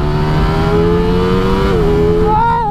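A Ducati Streetfighter V4 SP motorcycle engine accelerates in second gear at part throttle, a loud, close, steady whining roar that climbs in pitch, shifting tone near the end.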